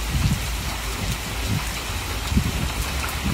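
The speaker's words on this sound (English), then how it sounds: "It's storming" Heavy storm rain pours down steadily around a shed roof fitted with a rain-dispersal gutter, a dense continuous hiss of drops with occasional low rumbles, close and loud, with no voices.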